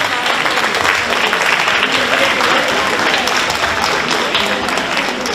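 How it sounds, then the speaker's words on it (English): An event audience gives a loud, sustained round of applause for volunteers, dense continuous clapping with a few voices mixed in. "Can we get a round of applause?"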